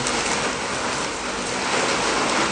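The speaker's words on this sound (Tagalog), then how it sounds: "Grabe, ang lakas ng ulan." Heavy rain pours down in a dense, continuous roar with no pauses and no voices.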